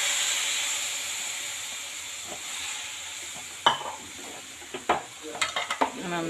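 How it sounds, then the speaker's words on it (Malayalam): Garlic added to a pan of spiced masala, a bright hiss of frying that fades, then a series of clattering spoon scrapes and knocks against the pan, close, with no voices. "നമ്മൾ വെളുത്തുള്ളി ഇതിലേക്ക് ഇട്ട് കൊടുക്കണം."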